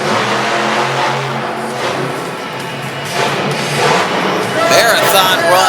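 The Bigfoot Ford monster truck, which debuted in 1994, roars and revs continuously while spinning donuts at a Pocatello, Idaho monster truck show, with loud engine noise under an announcer's commentary.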